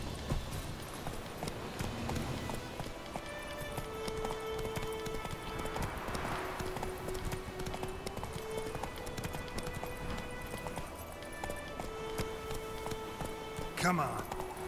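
Rhythmic hoofbeats of a horse galloping in The Witcher 3 video game, steady and moderately loud throughout, with a brief whinny-like cry near the end.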